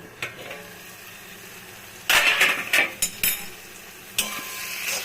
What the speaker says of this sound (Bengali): এখন ঢাকাটা তুলব।